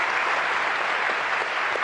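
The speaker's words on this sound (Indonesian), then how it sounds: "Kita kasih tepuk tangan dong untuk teman-teman ini." A studio audience on an Indonesian talk show claps in sustained, dense applause at even loudness throughout, with no speech over it.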